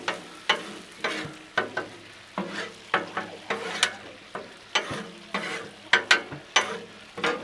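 Rice being tossed with island seasoning on a Blackstone griddle, spatulas scraping and clacking in a quick steady rhythm over a low background sizzle, close and fairly loud.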